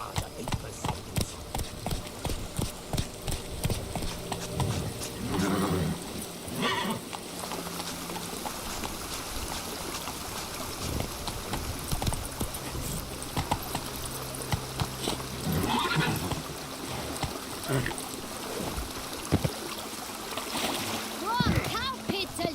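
Horse hooves clip-clop at a run through the Toussaint countryside of The Witcher 3, splashing over water in a steady loud rhythm under game music, with someone talking over it.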